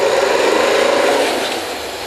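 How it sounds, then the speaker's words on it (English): Chain and tongs tightening drill pipe on an old Kelly drilling rig, heard as a steady, loud metallic rasp and grinding rub that holds for about a second and a half, then eases off. "Using the chain and the tongs in combination to tighten up the pipe."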